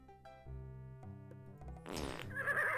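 A game horse in the 1993 Sierra PC adventure Freddy Pharkas: Frontier Pharmacist breaks wind into a paper bag over plucky synthesized music, a brief, loud, sputtering, reverberating blast near the end.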